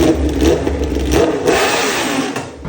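A motorcycle engine revs loudly through a GP22 exhaust, the pitch rising and falling in sustained pulls, close and continuous.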